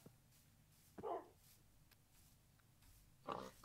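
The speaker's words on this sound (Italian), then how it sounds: "io sto provando a tamare un cane, sprecando tutte le ossa che trovo" Dog sounds in a hardcore Minecraft game while a player tries to tame a dog with bones; two short, moderately loud whines or barks about two seconds apart over a quiet background.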